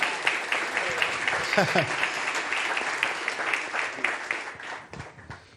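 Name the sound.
audience applauding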